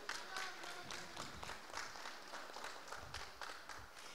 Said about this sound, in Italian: quindi un applauso per i miei colleghi.